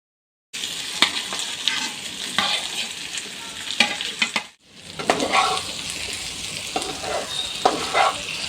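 Chopped potato is stirred into a spiced idli batter with a spoon, making repeated close scraping and wet clacking strokes against the bowl, a soft sizzle-like rustle continuing around a brief pause midway.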